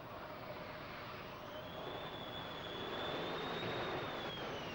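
Phantom and Buccaneer jets circle an aircraft carrier, a faint, distant, steady engine roar and whine that slowly swells, with no voices.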